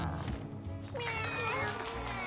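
Cartoonish cat meows from the video game Mewgenics, short mewing calls rising over background game music and sound effects, with someone talking alongside.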